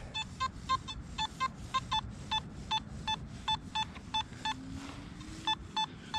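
A Simplex metal detector in a park emits a rapid series of short, high electronic beeps, mostly in quick pairs, over a low rumbling background.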